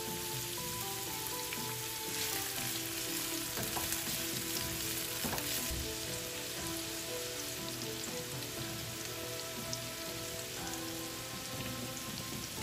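Chopped onion and garlic sizzle in hot oil in a home kitchen, a steady, dense crackling hiss that runs unbroken, with a few faint stirring knocks and no speech.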